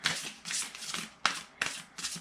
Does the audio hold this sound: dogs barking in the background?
no